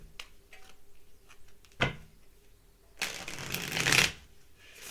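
Tarot cards being shuffled by hand, a few soft riffles and slides with quiet pauses between, close and fairly faint with no talk.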